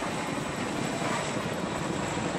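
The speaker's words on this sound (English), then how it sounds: "Chopper's left side, passing now." A Chinook helicopter passes in the military video game ArmA 2, its steady loud rotor and engine drone filling the whole stretch without speech.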